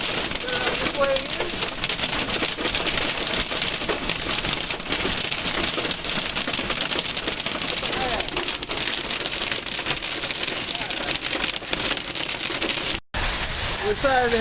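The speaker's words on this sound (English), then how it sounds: "hail was getting really loud on the windshield" Hail drums on a car windshield during a 2016 hailstorm, a dense, loud, close patter of hard hits that goes on steadily with no pause.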